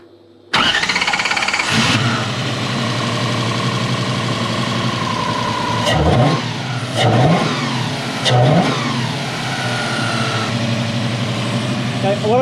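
Toyota 1UZ V8 in a Hilux ute cranks and catches, then settles into a steady idle with a few blips of revving, close and loud, with voices talking over it.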